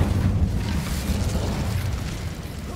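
An Incendio fire spell cast in Hogwarts Legacy, a sustained low whooshing roar of flame that fades slowly, with no talk over it.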